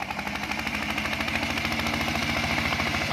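An old walking tractor engine repurposed to drive a rice mill, chugging in a fast, steady, even rhythm, loud and close, with no voices.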